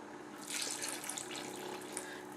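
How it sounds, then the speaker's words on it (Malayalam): Water is poured into a pan of egg kuruma curry as a steady close rushing splash lasting a couple of seconds, with no talk over it. "ഗ്രേവിക്ക് ആവശ്യമുള്ള വെള്ളം ഒഴിക്കുക"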